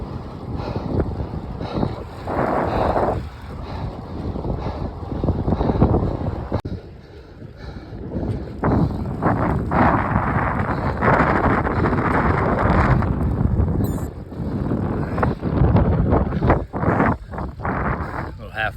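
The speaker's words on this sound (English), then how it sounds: "Now we're heading south, and the wind is in our face." A headwind buffets the microphone of a cyclist riding south during triathlon training, a loud, continuous roaring rumble that swells and dips, with a person speaking at times underneath.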